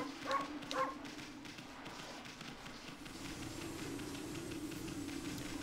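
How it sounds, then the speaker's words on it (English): Amaterasu, the white wolf of Okami HD on Xbox One X, gives two short barks in quick succession near the start, followed by a steady ambient game background with no talk. "My favorite pointless thing to do in this game is to bark for no good reason."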